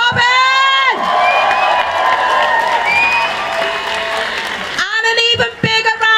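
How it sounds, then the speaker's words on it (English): A large crowd applauds and cheers loudly and steadily for MPs and Jeremy Corbyn at a political event, with whoops and shouts rising over the clapping and a voice calling out near the end. "So big rounds of applause for our MPs and Jeremy Corbyn!"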